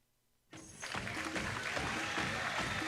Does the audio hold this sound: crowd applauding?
yes